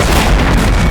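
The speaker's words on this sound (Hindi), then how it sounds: "लगता है कहीं धमाका हुआ है।" A loud, close explosion booms through a scene of a Hindi CID crime drama, a dense burst of rumbling noise lasting under a second with no voices.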